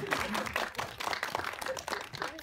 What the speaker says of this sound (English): So we give her a clap.